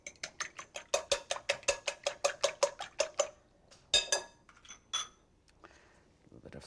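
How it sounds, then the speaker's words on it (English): Eggs whisked briskly in a bowl, a run of about fifteen quick even clinks of the whisk against the bowl, close and crisp, then a pause and a few scattered knocks and clatters. "Let me just whisk the eggs before I do that"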